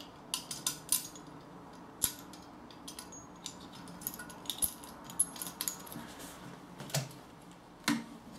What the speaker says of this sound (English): take the screw and the washer, and we simply screw it